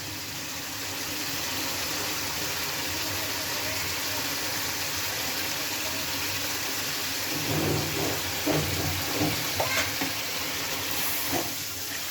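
Pangas fish pieces go one by one into a pan of sautéed potato and papaya curry base. A constant hissing sizzle is broken late by a few louder crackling bursts as the pieces land.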